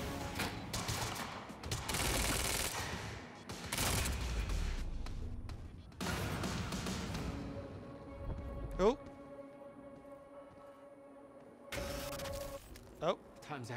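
Monarch troops open fire in Quantum Break, bursts of heavy gunfire and mechanical clatter arriving in loud clusters separated by quieter gaps, with faint tonal sweeps in between.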